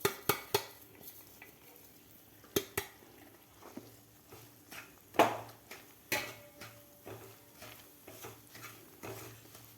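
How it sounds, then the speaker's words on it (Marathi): Mung dal powder roasting in ghee in a pan, heard as soft stirring with intermittent utensil clinks and scrapes against the pan, a few sharper knocks spread across the stretch, fairly quiet and with no talking. "आता ही मिक्सरमधून काढून घेतलेली डाळसुद्धा आपल्याला ही पावडर 2 मिनटं तुपामध्ये व्यवस्थित आपल्याला भाजून घ्यायची आहे"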